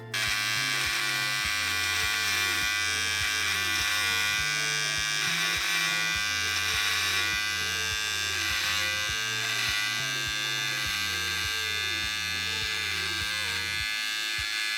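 Electric beard trimmer buzzes steadily and close while it cuts a beard for an Italian-style beard cut, its pitch dipping and shifting as it passes through the hair for about fifteen seconds.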